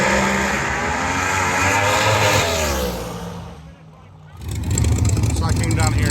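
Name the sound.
Pro Mod drag race cars running at drag strip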